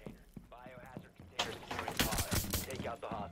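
Gunfire in Rainbow Six Siege breaks out as a quick run of sharp shots under players' excited voices, with the bursts clustered in the second half.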